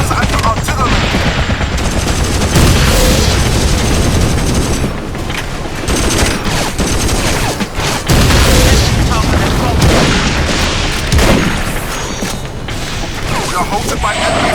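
Mortar and artillery explosions in Battlefield 2: Modern Combat, continuous rumbling booms layered with dense gunfire and machine-gun bursts, loud and sustained, with battlefield radio chatter mixed in.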